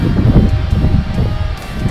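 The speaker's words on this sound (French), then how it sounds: "le bois de Belleville, avec le vent de ouf qu'on se tape aujourd'hui." Strong gusty wind sweeping through a wood in Seine-et-Marne, buffeting the microphone with a steady low rumble and roar that swells and dips over about two seconds, loud and close, with no voices.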